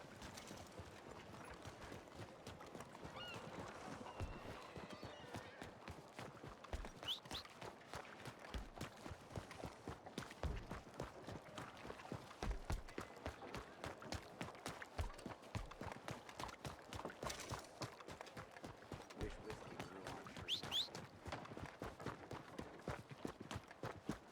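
A horse gallops steadily in Red Dead Redemption 2, its rapid hoof clip-clop pounding continuously and fairly close for the whole stretch, with no talk over it.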